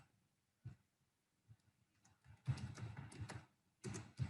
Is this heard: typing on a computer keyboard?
yes